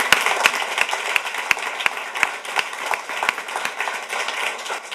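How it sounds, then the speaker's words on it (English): An audience at a school board meeting gives a round of applause: scattered, fairly close hand claps ring out at an uneven rhythm over a steady background hiss for about five seconds, with no talking. "So if we can give Miss Vivian a round of applause."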